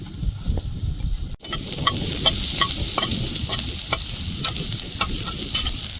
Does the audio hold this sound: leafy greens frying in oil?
yes